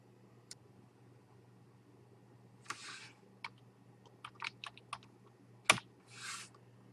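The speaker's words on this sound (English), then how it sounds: "Type the word Gmail into the address bar." A few scattered keystrokes on a computer keyboard, typing a short word into a browser address bar, with quiet room hum and a couple of brief softer rustles between the clicks.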